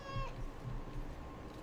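A cat meows in Dragon Age: Awakening, one short, faint meow at the start followed by a low murmur of background sound.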